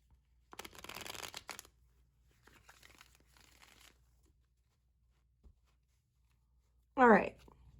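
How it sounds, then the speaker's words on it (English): Cards riffled and shuffled in a couple of short rustling bursts, ending with a quick crisp bridge-like flutter, quiet and close. "Let's go ahead and shuffle these up."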